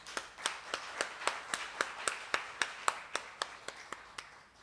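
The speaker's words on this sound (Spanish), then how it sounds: "necesitamos recibirlo con un gran aplauso" Clapping greets an expert speaker at a lecture on ageing and development: a steady, evenly spaced run of about sixteen crisp claps, moderately faint and slightly distant, with no talking over it.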